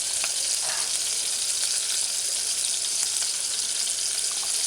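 Pieces of codfish fry in a hot pan for a cauliflower tomato stew, giving a loud, steady sizzle with fine crackling throughout and no talking.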